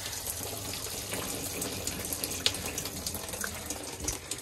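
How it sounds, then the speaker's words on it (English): Water runs and splashes steadily as it drains from the pan of an Infinity Shower recirculating unit, a continuous close hiss and trickle with small gurgles and no talking. "There we go, water is draining from the pan."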